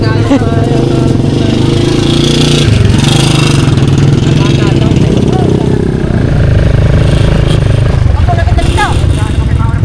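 Motorcycle engines rev and drone close by in a busy, loud mix at a horse race, with people talking over the steady engine noise.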